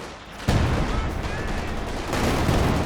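Maxim machine gun firing in the Company of Heroes 2 strategy game, a dense sustained burst of battle gunfire that swells sharply about half a second in and keeps rolling loud with no talk over it.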